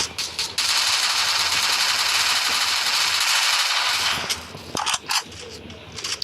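MP5 submachine gun fire in Counter-Strike: a long, loud automatic burst of rapid shots, followed by a few shorter bursts and scattered game sounds.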